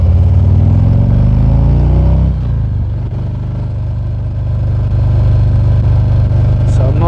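A Harley-Davidson Ultra Limited motorcycle rides with a steady low engine drone under heavy wind rush. The engine note shifts down partway through, then holds as a constant rumble.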